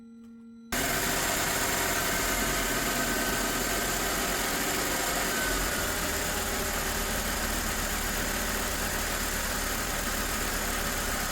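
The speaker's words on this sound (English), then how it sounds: "the engine is working perfectly and the idle is very smooth" A Mercedes M272 six-cylinder V6, just repaired with a fixed swirl/tumble flap actuator arm, starts and settles into a smooth, steady idle, a close, even engine hum that holds for about ten seconds with no talking.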